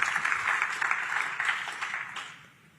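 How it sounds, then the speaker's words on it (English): Attendees at a tech summit's closing session applaud, a moderate wash of clapping that holds for a couple of seconds and then fades out. "Give yourselves a big round of applause for coming."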